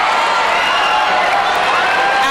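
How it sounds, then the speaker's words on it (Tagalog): A crowd at a junior volleyball match in the Philippines roars steadily and loudly with cheers and whoops, a dense sustained wash of voices. "Ang saya-saya ng crowd."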